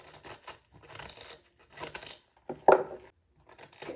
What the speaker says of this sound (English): So you can cut your cabbage like this.